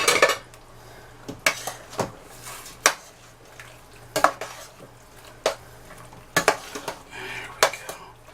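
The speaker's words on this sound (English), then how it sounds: "Stir that in." A utensil stirs instant rice into hash in a metal pot, with scattered clanks and scrapes against the pot, close and irregular, over a low steady hum.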